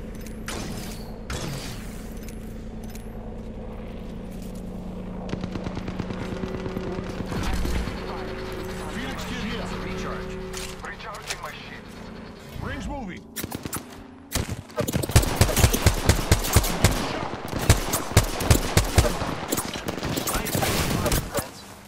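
Enemy gunfire in Apex Legends, first as sporadic shots and mechanical clatter under a game announcer's voice, then bursting into loud, rapid volleys near the end.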